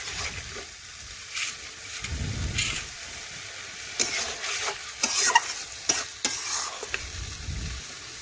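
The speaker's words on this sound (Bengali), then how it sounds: "দেখুন এইভাবে বেশ কিছুক্ষণ ধরে নাড়াচাড়া করতে হবে, তাহলে চিকেনটা ভাজা হয়ে যাবে।" Chicken is stirred and fried in spiced masala in a pan, with a steady close sizzle, spoon scrapes and rustles against the metal, and louder stirring bursts through the middle and near the end.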